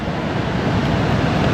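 The American Falls at Niagara Falls, seen from the Canadian side, give a steady, dense roar of falling water that holds even and unbroken throughout, with no voices over it.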